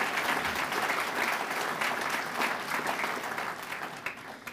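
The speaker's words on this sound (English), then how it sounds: "That's a good applause line." Audience at a Bicycle Colorado gala in a banquet room breaks into steady applause, a dense burst of clapping that holds for about four seconds before tapering off slightly at the end.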